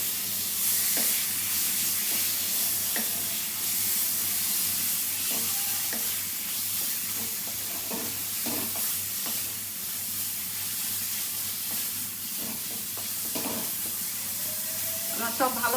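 Sliced potato dropped into hot oil with fried onions in a pan, a steady loud sizzle and hiss throughout with scattered stirring clatters, while a voice talks over it.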